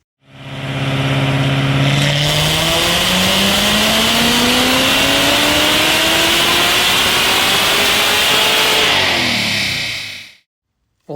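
A supercharged C7 Corvette roars through a full pull on a chassis dyno, loud and close, its engine note climbing steadily from low to high for about eight seconds before cutting off abruptly to silence.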